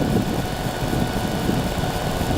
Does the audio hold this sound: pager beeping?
no